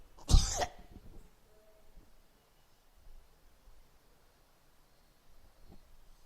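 A single loud, short cough bursts out near the start from a man lecturing in a classroom. Quiet room tone follows, with only faint rustles.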